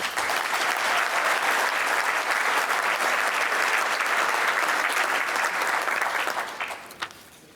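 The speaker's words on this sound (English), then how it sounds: "please give this group a round of applause" Sustained applause from a crowd at an awards ceremony, steady and full for several seconds before tapering off at the end.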